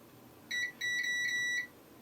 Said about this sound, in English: we have the meter in continuity mode, which is the mode that beeps when we touch the probes together and have a full circuit